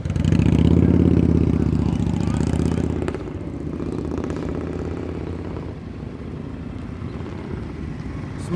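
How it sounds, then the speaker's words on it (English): A motorcycle in first gear at slow speed during an advanced riding-skills practice session in New Jersey, its engine rumbling loudly at first, then settling to a steady low idle-like drone. "Motorcycle's in first gear, covering the rear brake."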